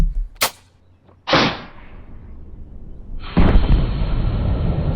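Air cannon firing a Nerf dart at 430 psi: a sharp crack, then a loud burst that trails off, followed by a sustained rushing hiss of released air, close and loud with no talk.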